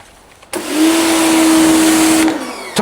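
A Ryobi 2030psi compact pressure washer with a 15-degree nozzle starts up abruptly, holding a loud, steady motor whine and spray hiss for close to two seconds before cutting off, with a brief click afterward.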